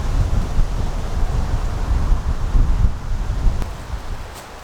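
Steady wind blowing across an outdoor disc golf course, a loud, continuous rushing roar buffeting the microphone throughout, with no talking.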